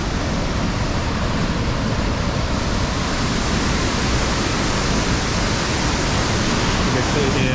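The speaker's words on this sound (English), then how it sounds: "You can see here all the water vapour being pushed up here, and I can just feel. And you can hear that wind, just the force of it." A powerful waterfall pours down with heavy spray and strong wind, making a continuous, loud, broadband roar that stays constant throughout, close and enveloping, with no other distinct sounds standing out.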